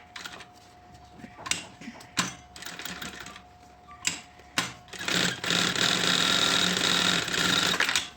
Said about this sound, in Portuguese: E eu vou passar uma costura segurando de todos os lados aqui, tá?